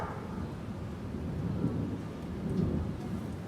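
Thunder rolls low and continuous through a thunderstorm, a deep rumbling swell over the steady hiss of falling rain, heard outdoors with no voices.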